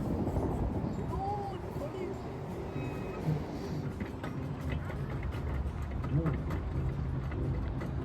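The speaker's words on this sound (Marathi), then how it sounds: "चालवा ट्रॅक्टर फास्ट." Steady low engine rumble of a tractor driving along on a farm in Canada, with voices chattering over it throughout.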